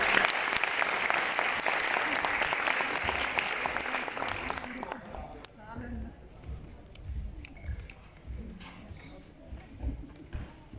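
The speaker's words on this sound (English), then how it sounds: "Please welcome him with a big round of applause." Loud audience applause welcoming a speaker at a Korean culture week closing ceremony, dense at first and then thinning into scattered claps and crowd noise as it fades out.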